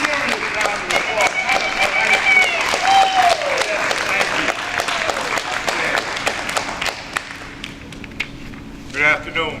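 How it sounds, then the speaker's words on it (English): Audience at an African naming ceremony breaks into a sustained round of clapping, dense and steady for several seconds, with voices and high calls mixed in before it thins toward the end. "I need a serious round of applause."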